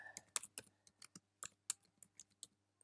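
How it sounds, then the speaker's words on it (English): Soft, close keyboard typing: a scattered run of quick key clicks with irregular gaps, faint and alone against a low hum. "sorry, there is a little bit of typing."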